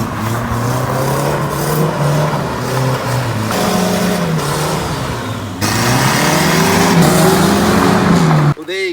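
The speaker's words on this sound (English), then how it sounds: "That's the first drive of the Datto Ute in 20 years." A Datsun ute taking its first drive in 20 years, engine revving and pulling steadily and loudly throughout with shifting pitch as it accelerates, with a brief dropout near the end.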